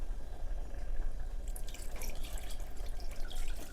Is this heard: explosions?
no